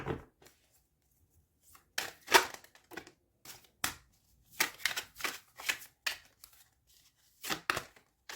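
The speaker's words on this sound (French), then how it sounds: "Je vais maintenant vous tirer quelques cartes conseils." Tarot cards being shuffled and drawn up close, crisp papery riffles and slaps in irregular bursts separated by short silences, with no voices.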